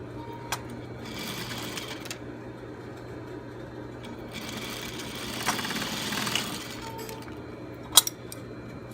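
A sewing machine stitches underwear fabric in short, stop-start bursts of whirring, with a louder run in the middle and a small clink near the end, against a quiet room background.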